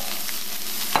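Arroz chaufa with green onions sizzles in a hot pan, a dense steady hiss over one second ending in a short scrape of the stirring utensil.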